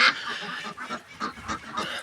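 Several geese honk in quick, uneven succession nearby, harsh nasal calls overlapping with no talk.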